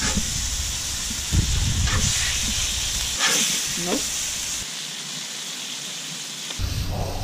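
Mango, chilli and lime catfish sizzles loudly on a very hot barbecue right after flipping, a steady hissing roar with brief louder spits and bursts, outdoors.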